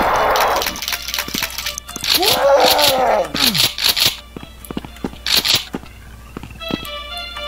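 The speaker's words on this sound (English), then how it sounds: "I hear growling." A monster in the video game The Ultimate Doom lets out a rough, rising growl amid scattered clicks and cracks, with bursts of other noise around it.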